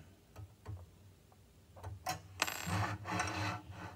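A collar is tightened onto a cam follower model, with a few small metallic ticks and clicks followed by a brief burst of handling and scraping noise, quiet and close.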